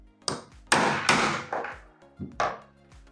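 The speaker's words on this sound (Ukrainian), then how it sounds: "Беремо молоток і вдаряємо по коректору один-два рази, але не дуже сильно." A hammer taps a metal ammunition reloading tool: several sharp metallic taps ring out one after another, each with a brief bright resonance, spaced unevenly with short pauses between strikes.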